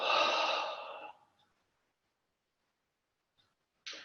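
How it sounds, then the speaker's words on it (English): A slow, deep exhale during yoga breathing: one long breathy sigh, close and soft, tailing off after about a second into silence, with a faint short breath at the very end. "Take a slow, deep breath into your body. And exhale."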